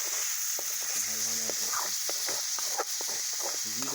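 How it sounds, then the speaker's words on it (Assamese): Pork with salt sizzles steadily in a pan while a utensil stirs it in short scraping bursts, with faint voice-like tonal sounds scattered through. "নিমখ দি পেলাই অলপ লৰাই দিছোঁ"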